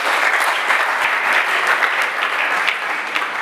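A conference hall audience at a university entrepreneurship conference applauds Monsieur Laurent, dense, loud clapping from the whole room that holds steady from start to finish.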